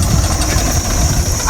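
A tractor engine idles steadily at close range, a low continuous rumble with a faint high whine above it, running evenly through the whole short stretch without clear speech over it.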